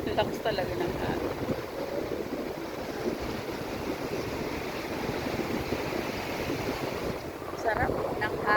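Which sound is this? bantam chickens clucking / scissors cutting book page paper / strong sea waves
strong sea waves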